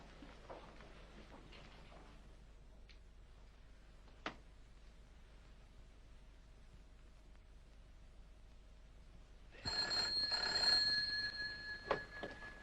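A telephone rings on the line after a call is placed, one bright ringing burst lasting a few seconds that follows a long stretch of faint, quiet background.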